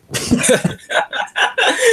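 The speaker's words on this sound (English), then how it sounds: "You screwed that up with the cough, man." A man coughs a few times in quick, sharp bursts near the microphone, followed by brief chuckling, during a casual online chat between friends.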